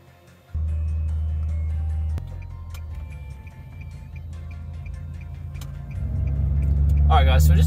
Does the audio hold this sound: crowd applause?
no